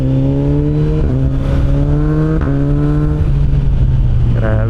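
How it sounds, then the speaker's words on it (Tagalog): A Kawasaki Ninja 1100SX engine roars loud and close, its rising pitch cut by quickshift upshifts with brief pops at each gear change. "Kada upshift may naputok eh."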